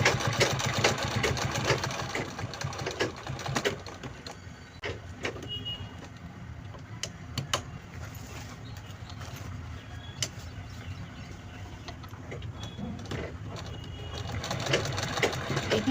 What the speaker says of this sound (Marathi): आता वरतून सुद्धा आपण शिलाई लावून घेऊ.